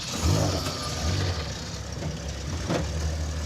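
An AMC Pacer with no clutch pedal is started in gear, its engine cranking and catching into a rough, rumbling idle with uneven surges, close and fairly loud.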